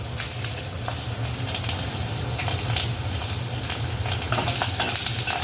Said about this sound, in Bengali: এবার ওই মাছ ভাজা তেলেই দিয়ে দেয়া হবে কালো জিরে ফোড়ন আর তার মধ্যে দিয়ে দেয়া হবে কাঁচা লঙ্কা